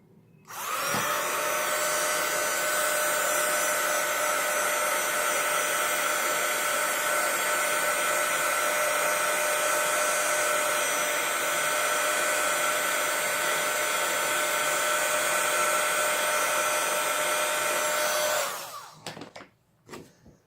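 Hot air blower heating a stained-glass effect card, a loud steady whirring whine running unbroken for about seventeen seconds before switching off and winding down.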